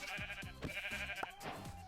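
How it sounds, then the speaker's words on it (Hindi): Goats bleat repeatedly in the Minecraft video game, a quick run of short, close, nasal cries with no talking over them. "यहाँ पे कुछ बकरियाँ दिख रही हैं। तो गाइस फटाक से लेते हैं इन बकरियों को मार"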